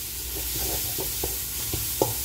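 Coriander sautéing in a pan, a soft continuous sizzle with a few light stirring clicks from the utensil, close and steady.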